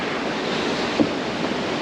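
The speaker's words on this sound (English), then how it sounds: "you can really see these 7 to 8 tons of water just absolutely barreling through these little cracks" Water of the Verzasca River rushes through narrow rock cracks in a loud, steady roar, with a brief splash or knock in the middle.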